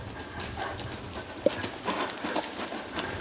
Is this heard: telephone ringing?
no